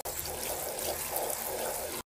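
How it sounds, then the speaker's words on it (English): Cold water sprays steadily onto a pair of white shoes, a continuous close hissing splash that stops abruptly at the end. "you're gonna spray them with some cold water"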